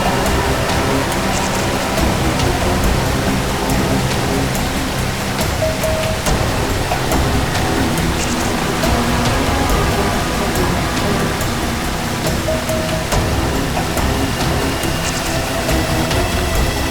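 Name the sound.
waterfall rushing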